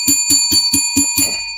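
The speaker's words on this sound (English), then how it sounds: "Let's ring the bell for the 478." A bell rings six times in a quick, even rhythm, each strike bright and ringing with a sustained tone, loud and close with no talking over it.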